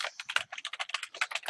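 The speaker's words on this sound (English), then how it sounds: "we don't use the word case, we just type in otherwise." Rapid typing on a computer keyboard while writing code, a close, dense run of clicky keystrokes in a quick, even rhythm.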